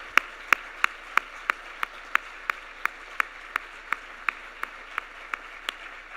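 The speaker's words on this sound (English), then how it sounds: "Let's give them a round of applause." At an evening keynote event, hands clap for past presidents and executive committee members. The claps are sharp, evenly spaced and come in a steady rhythm, standing out over a quiet room hum.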